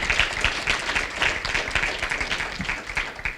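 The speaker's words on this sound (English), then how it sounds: "so you deserve a round of applause" A crowd applauds steadily, many hands clapping in a dense, even patter that holds at a moderate level throughout.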